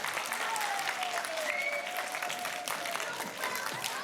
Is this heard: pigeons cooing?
no